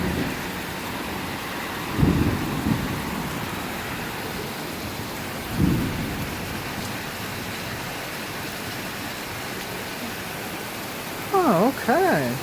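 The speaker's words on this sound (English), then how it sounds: "Oh, it's pouring! It's pouring again, it's pouring." Heavy rain pours steadily through a severe summer thunderstorm in Newburg, Pennsylvania, a dense constant wash with a couple of low rumbling swells, while a voice speaks briefly near the end.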